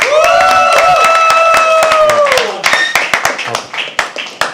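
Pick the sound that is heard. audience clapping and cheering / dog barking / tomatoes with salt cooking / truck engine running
audience clapping and cheering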